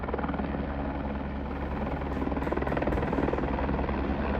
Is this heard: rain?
no